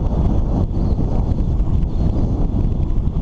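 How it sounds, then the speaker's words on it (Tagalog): Strong wind buffeting a microphone while riding a bike through a town, a continuous low rushing roar with gusty fluctuations and no talk. "Lakas pa rin yung hangin."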